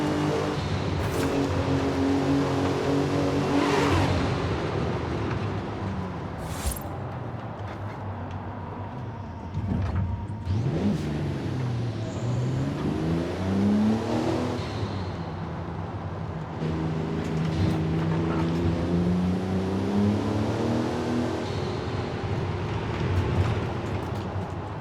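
A 1995 Porsche 911 GT2 engine in Forza Horizon 5 revs and accelerates repeatedly, its rising pitch sweeps breaking off at gear shifts, with a steady loud drone and no talking.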